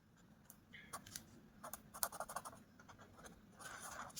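Quiet pen strokes scratch across paper while a maths problem is worked out, short irregular scribbles close to the microphone with small pauses between them.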